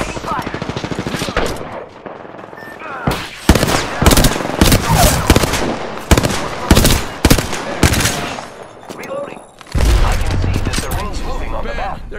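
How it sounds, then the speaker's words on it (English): Loud video game gunfire from Apex Legends, with rapid automatic bursts and single cracking shots in clusters, close and dense, broken by short pauses, with game voice lines over it. "Shots fired and they're hitting me."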